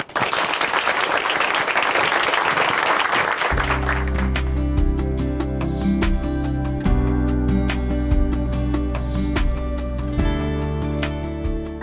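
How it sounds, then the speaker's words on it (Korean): A church congregation at Chuncheon Hanmaeum Church claps to welcome a speaker, a loud burst of applause that gives way after a few seconds to steady music continuing to the end. "춘천 한마음교회 이미자 자매님 박수로 모시겠습니다"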